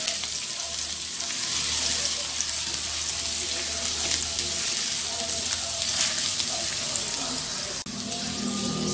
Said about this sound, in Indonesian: Setelah minyaknya panas, ini bawang putihnya saya masukkan. Dan ini ditumis terlebih dahulu.